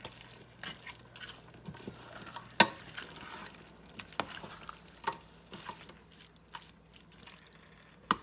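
A spoon gives okra a light stir in a pot of homemade vegetable soup, producing faint, scattered clinks and soft liquid sloshes, close and quiet without talk.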